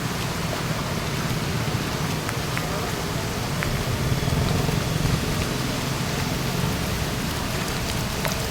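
A heavy downpour floods the market street of Veliyankode, where water has entered the shops, making a constant dense hiss of falling rain with a low, steady rumble underneath.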